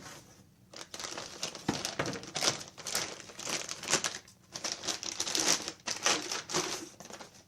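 Plastic and cardboard packaging of a Huztl MS250 clone chainsaw being opened, with dense, irregular crinkling and rustling bursts close up and no voice.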